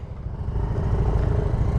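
Motorcycle engine running close by outdoors in Gabaldon, Nueva Ecija, a low rumbling idle that rises into steady revving with a throbbing, pulsing tone and no voices.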